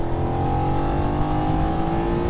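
A 2025 BMW F900 motorcycle accelerates hard to overtake, its engine note rising and strong. The sound is loud, close and continuous, with no talking.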